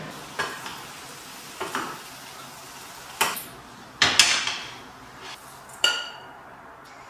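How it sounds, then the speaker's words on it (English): Broccoli and cauliflower sauté in a pan with a soft sizzle, broken by several sharp scrapes and clinks of a utensil stirring against the metal at uneven intervals. "I also add in broccoli and cauliflower. I saute them for 3 to 4 minutes time, and you can see the change in color."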